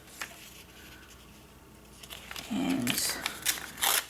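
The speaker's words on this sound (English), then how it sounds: "And I am just going to cut it" Scissors trim a sheet of ephemera-pack paper printed to look like a book page, giving a few crisp snips and papery crinkles close up near the end, with a brief word spoken just before.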